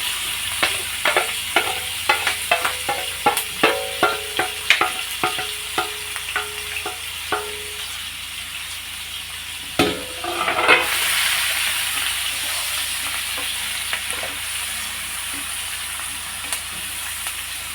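Green chillies and onions fry in hot oil in a pan for a chicken curry, with a steady loud sizzle and a rapid series of scraping stirs early on, then continued hissing with occasional clatters.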